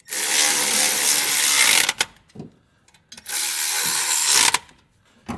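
Header gasket bolts tightened with a ratcheting wrench, two long bursts of rapid grinding ratchet clicks up close, separated by a short quiet gap with a few light knocks.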